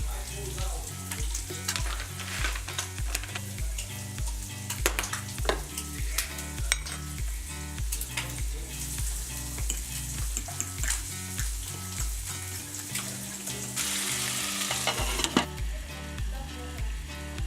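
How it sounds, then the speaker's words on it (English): Cubed ham steak sautéing with garlic and butter, a steady frying sizzle with stirring scrapes running throughout, mixed under strong rhythmic background music that carries on all the way. "sauteed the cubed up ham steak, a little bit of garlic, a little bit of butter"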